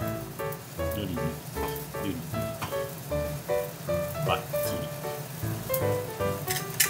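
Oil sizzling in an iron frying pan as it is spread, a soft crackling hiss under pattering pops, close and continuous with faint tonal ringing from the pan.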